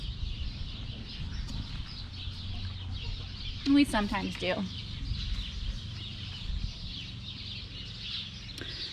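Chickens clucking close by in a backyard chicken yard, with a louder rooster-like call in the middle, over a low outdoor rumble while a person speaks briefly.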